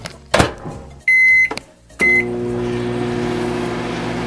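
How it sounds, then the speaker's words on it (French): Microwave oven melting chocolate chips: a door clunk, then a loud steady beep, a second shorter beep, and a steady running hum. "je vais mettre au micro-ondes pour que ça fonde"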